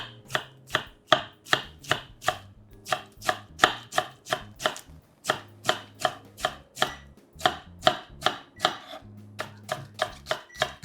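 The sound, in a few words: knife shredding cabbage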